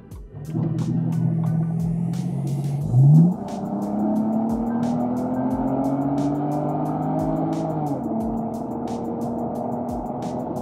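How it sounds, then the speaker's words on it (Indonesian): A BMW E92 330i with an ABS indicator fault cruises at high speed. A steady engine drone and road rumble are heard from inside the car, with the engine tone shifting around two gear changes. "kita udah melakukan tes di kecepatan tinggi ya"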